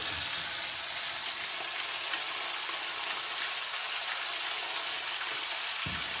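Beef osso buco browns in a hot pan, a steady, loud, hissing sizzle holding evenly throughout with a soft bump near the end.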